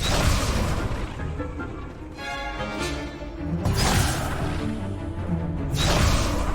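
A fire spell, Incendio, is cast in the Hogwarts Legacy video game, bursting out as a loud whooshing blast followed by a second fiery rush, with dense game sound throughout.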